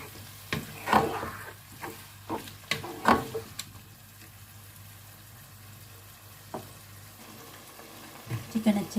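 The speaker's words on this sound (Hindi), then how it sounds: "चिकन अच्छे से फ्राई हो गया है और लहसुन अदरक भी साथ ही अच्छे से फ्राई हो गया है" Chicken frying with crushed garlic, ginger and green chilli in a pan, a soft sizzle broken by several sharp stirring clatters and spoon knocks, with faint voice in the background.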